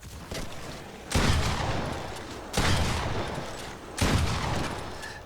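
Three heavy shotgun blasts in Fortnite, loud and evenly spaced about a second and a half apart, each trailing off in a long noisy decay, with no talking.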